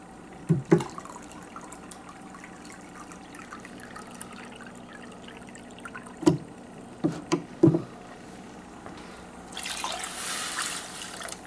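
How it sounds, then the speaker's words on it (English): A few sharp clunks and knocks are followed by a short burst of water splashing and pouring into a pot near the end. "we're going to add about anywhere from 4 to 5 cups of water."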